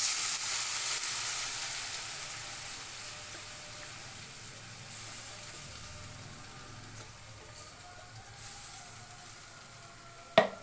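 Ground masala paste sizzles steadily in a pan of frying onions, a soft, continuous hiss with a few faint stirring clicks and a small clatter near the end.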